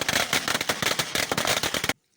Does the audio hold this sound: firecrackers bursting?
yes